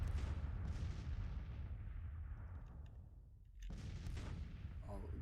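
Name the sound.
artillery fire in Grand Tactician video game battle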